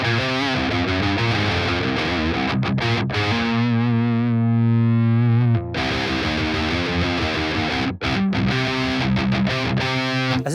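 Heavily distorted electric guitar through the lead channel of the Aurora DSP Kobraa plugin, modeled on the Framus Cobra amp, plays loud, dense riffs and a sustained chord with brief choked gaps.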